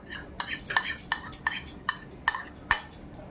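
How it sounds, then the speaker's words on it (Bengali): Prawns are stirred into batter in a bowl for chilli garlic prawn, a spoon knocking against the bowl in a regular series of sharp clinks over a faint background. "এবার এই ব্যাটারটা এই যে বাটিটার, এই বোলটার মধ্যে যেটা রয়েছে চিংড়ির মধ্যে আমি দিয়ে দেবো।"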